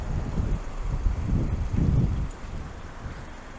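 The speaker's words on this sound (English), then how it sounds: "I think we're going to be going into the wind now. You can probably hear it pretty bad going up here." Wind buffets the microphone while riding a Super Soco TSX electric motorcycle around Lowestoft, a steady low rumbling roar that swells and then eases slightly, with no engine note.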